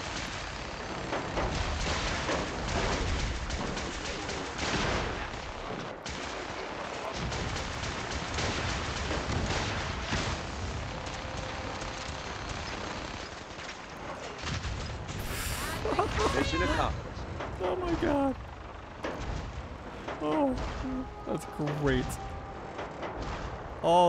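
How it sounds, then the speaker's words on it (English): Combat in the video game Fallout 4: repeated booming explosions and crackling gunfire-like bursts over a rumbling din, with sharp bangs clustering toward the end and a voice speaking at times. "Explosions."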